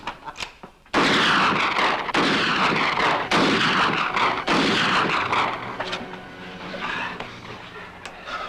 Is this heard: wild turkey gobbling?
no